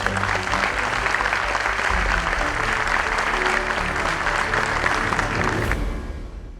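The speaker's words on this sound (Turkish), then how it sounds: "Onun için en büyük alkışı Abdullah Uğur'da" An audience at a film premiere gala applauds loudly and continuously, a dense wash of clapping that starts to fade near the end.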